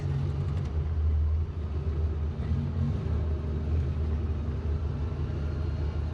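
Supercharged Toyota 1UZ V8 in a Hilux idling: a steady, deep, low rumble that holds even and close for the whole stretch, with no voices.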